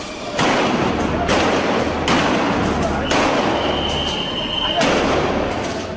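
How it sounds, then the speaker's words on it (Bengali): Gunfire and sound grenades at a violent street clash between police and protesters, heard as repeated loud, dense bursts and booms that keep washing over one another with a steady noisy roar and no clear gaps. "জবাবে আসে গুলি আর সাউন্ড গ্রেনেড"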